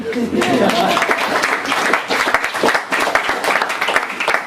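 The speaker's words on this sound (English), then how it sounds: "yes, you can applaud." An audience at a literary talk in a San Francisco bookstore breaks into brisk, close applause. The clapping is lively and fairly loud and carries on throughout, with a voice briefly heard over it.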